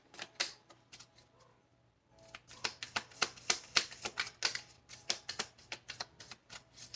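A tarot deck shuffled and cards drawn, quick close papery riffles and snaps in bursts, a short lull, then a longer run of rapid card flicks, quiet and without speech.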